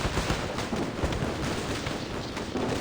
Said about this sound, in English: Against the rattle of gunfire outside,